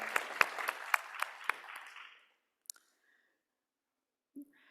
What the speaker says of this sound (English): I think Brielle deserves a round of applause